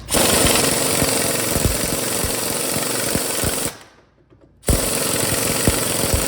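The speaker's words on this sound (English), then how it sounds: "But first thing I'm going to do is get this snugged up just with the 1/2 inch impact." A 1/2 inch impact wrench tightening a pinion nut on a Dana 44 axle of a Jeep JK Rubicon during a re-gear, loud rapid hammering bursts close by, briefly pausing before hammering again.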